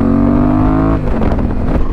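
A motorcycle engine revs hard while riding, a loud sustained roar whose pitch holds steady then drops and roughens briefly as the throttle changes, close and alone without talk.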